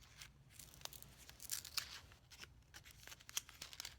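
A shavette razor blade is unwrapped from its paper packaging: quiet, close crinkling and tearing with a few sharp crisp snaps, scattered irregularly over a few seconds.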